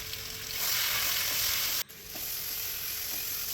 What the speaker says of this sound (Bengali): ওই তেলে সেদ্ধ করে রাখা সবজি, হলুদ গুঁড়ো, নুন দিয়ে ভাজবো।